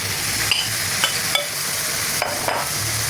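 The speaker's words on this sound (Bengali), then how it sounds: "ভালোভাবে মশলাটা কষিয়ে লবণ, মাছগুলো ছেড়ে দেব।" Fish pieces go into a pan of frying, well-roasted spice masala with salt for a mixed-fish curry, a continuous sizzle broken by several light clinks and scrapes of a utensil, no voices.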